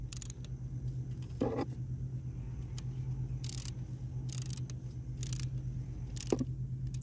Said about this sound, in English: That way you can hear the clicks on the torque wrench.